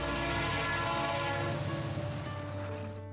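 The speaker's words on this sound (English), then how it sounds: "81 trains a day pass the Rochelle Railroad Museum." A train passes the Rochelle Railroad Museum, a busy rail junction, its loud sustained horn blaring over the rumble of the cars, with a slight clickety-clack before it fades at the end.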